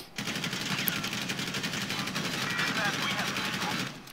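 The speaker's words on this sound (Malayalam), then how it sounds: "ഇവിടെ ഞാൻ നിറച്ച് വെടി വെക്കുന്നുണ്ട്," Rapid, sustained gunfire during a GTA 5 robbery, with dense automatic-sounding bursts rattling on steadily for several seconds at a fairly even loudness.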